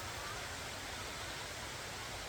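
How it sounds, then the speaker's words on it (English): Rain-swollen river in Talybont, Wales rushing continuously, a dense steady broadband roar of flowing water, close and unbroken throughout. "After all the rain, the river's looking good, sounding good."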